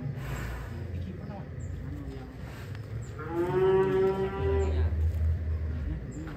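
A huge contest bull lows in a long, deep, drawn-out moo, close and loud, amid crowd murmur and chatter at a livestock show.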